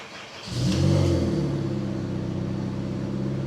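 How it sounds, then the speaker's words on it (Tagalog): Honda Civic FD exhaust with a broken, crumbled catalytic converter, starting up and revving into a loud, raspy, unmuffled rumble that holds at a steady drone, heard up close. "So ito yung tunog ng exhaust ko ngayon."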